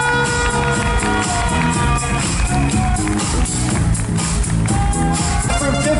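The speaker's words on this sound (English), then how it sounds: "Let's give them a big round of applause." A pageant audience cheers and applauds loudly for special awardees, a constant crowd roar over music.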